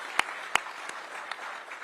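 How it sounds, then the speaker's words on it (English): Applause from an audience at a downtown Washington, D.C. gathering about the Commanders returning to the city, steady clapping with a few sharper nearby claps. "Give those ladies a big round of applause."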